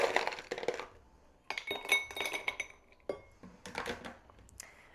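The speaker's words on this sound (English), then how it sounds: "We are going to add ice to our rocks glass." Ice cubes dropped into a rocks glass for a bourbon and amaro cocktail, several bright clinking bursts in quick succession, close and fairly quiet.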